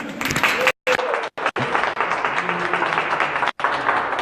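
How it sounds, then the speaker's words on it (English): An audience applauds to welcome a speaker at a Denver business education talk, a dense, steady wash of clapping with a few abrupt gaps where the sound cuts out. "With rousing applause,"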